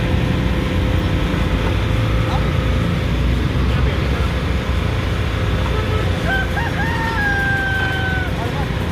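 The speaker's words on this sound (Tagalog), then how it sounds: "Okay, so meron pang manok dito nakatago." A rooster crows from a distance in Tondo, Manila, over a loud, steady rumble of background noise.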